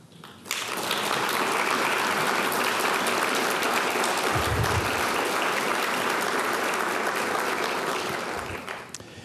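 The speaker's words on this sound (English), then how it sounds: "stand for a round of applause." At a preservation awards ceremony, the audience gives the zoning and historical commission staff a long, loud round of applause that starts abruptly, stays full and even, with a brief low thump midway, then tapers off.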